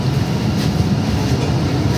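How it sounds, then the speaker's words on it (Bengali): An underwater metro train beneath the Ganges toward Howrah starts moving, giving a continuous loud rumble and rattle of rail cars heard from inside the carriage. "এই মেট্রো চলতে শুরু করেছে এবার।"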